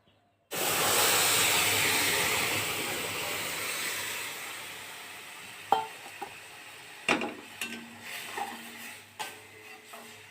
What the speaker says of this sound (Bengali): দুধটা ঢেলে দেবো।